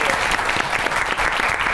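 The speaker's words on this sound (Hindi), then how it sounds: "दोनों मेहमानों के लिए बहुत सी ताली होनी चाहिए।" Studio audience on a Pakistani comedy talk show clapping for two guests, a dense, steady burst of applause close by.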